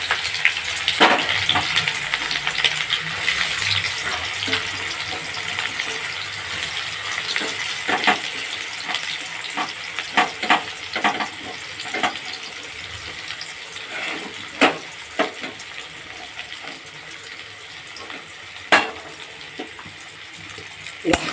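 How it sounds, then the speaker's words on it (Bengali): Onions frying in oil in a pan while cooking mutton kala bhuna: a steady, fairly loud hiss of sizzling with scattered crackles and pops, and some speech in the background. "এবার আমি পেঁয়াজটাকে ভাজতে থাকবো। দেখো পেঁয়াজটা আমি তেলের মধ্যে দিয়ে দিলাম।"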